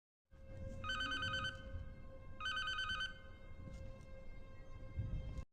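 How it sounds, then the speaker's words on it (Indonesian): A telephone rings in two distinct trilling bursts, with a low hum and background murmur underneath. "tiba-tiba telepon berdering"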